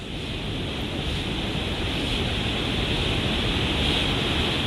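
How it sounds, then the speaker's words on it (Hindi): Strong floodwater from continuous rain in Uttarakhand surges around a nearly submerged bridge, a loud, steady roar of rushing water with no voices. "लगातार पानी का तेज बहाव लोगों को परेशानी में डाल रहा है।"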